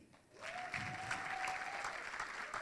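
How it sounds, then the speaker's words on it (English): Audience applause breaks out at a human rights defenders awards ceremony, a sustained crowd of clapping hands filling the room for about two seconds, steady and fairly close, with a faint whistle-like tone running beneath. "I'd like you to clap for Dr. William Tunga."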